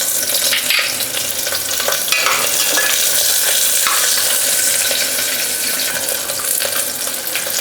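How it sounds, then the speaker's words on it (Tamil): Onions with green chili, curry leaves, cardamom and bay leaf sauté in hot oil for chicken soup, a dense, loud, continuous sizzle with occasional stirring scrapes. "வெங்காயம்லாம் கொஞ்சம் வதங்கி வரட்டுங்க."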